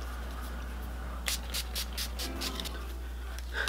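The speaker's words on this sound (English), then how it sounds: "Now we're gonna get our NYX Dewy Finish Setting Spray." Several short misty bursts from a NYX Dewy Finish setting spray, pumped in quick succession at close range against a steady fan hum.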